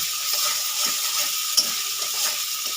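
Spice paste frying in a pan for a pointed gourd and prawn curry, a continuous close sizzle broken by soft stirring scrapes and one small pop.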